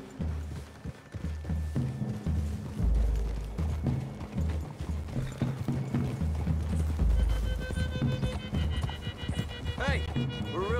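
Horse hooves clip-clop in the Red Dead Redemption 2 video game as riders move through a forest clearing, a steady trotting rhythm heard under ongoing dialogue.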